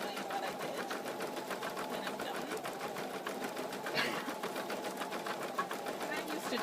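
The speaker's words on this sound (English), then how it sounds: "I'm just going to jump on my sewing machine here and give a zigzag," Sewing machine stitching a zigzag runs in a steady, rapid mechanical patter close by, continuous throughout with no pauses.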